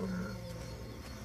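Distant lions roaring in African big cat country, low rumbling calls rolling steadily through the whole stretch, faint and far off with no voices.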